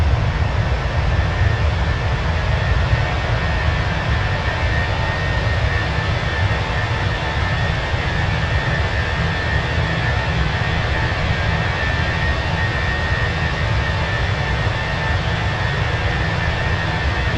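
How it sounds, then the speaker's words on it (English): Airliner jet engines roar steadily in Microsoft Flight Simulator on an Australian domestic flight climbing out past 3,500 feet, a loud, unbroken broadband rumble with no voices. "Listen to the engine screaming."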